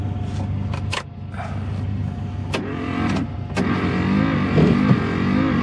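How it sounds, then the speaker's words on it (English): The wiper motor of a 1990 Ford F350 one-ton dually crew cab pickup whirs steadily inside the cab, growing a little louder over a few seconds, with a few faint clicks and knocks. "Wiper motor makes a little noise."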